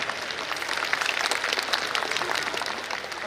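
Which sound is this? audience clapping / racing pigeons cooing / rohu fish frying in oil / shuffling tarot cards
audience clapping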